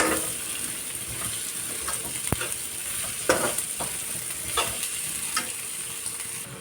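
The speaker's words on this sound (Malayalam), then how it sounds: "അതിലേക്ക് നമ്മൾ സവോളയും പച്ചമുളകും ചേർത്ത് കൊടുക്കാം" Onion and green chili sautéing and being stirred in a pan for a Kerala-style chicken and ash gourd curry, with a steady close sizzle, occasional spoon scrapes and clinks, and no talking.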